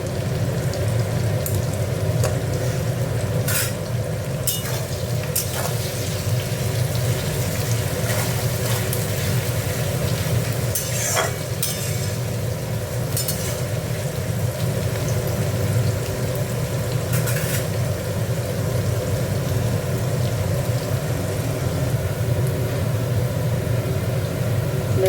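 Onions frying in a pan for Bengali mochar ghonto give a steady loud sizzle and crackle throughout, dotted with sharper pops and spits.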